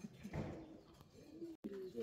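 Red Neck Budapest pigeons at a pigeon farm coo in low, soft throaty rolls close by, with a brief dropout partway through.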